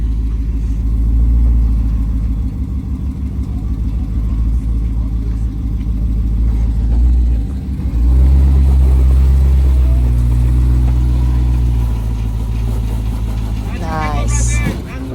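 An off-road vehicle's engine rumbles and revs as it climbs a trail obstacle, a loud low growl that dips and surges again, with people talking over it throughout.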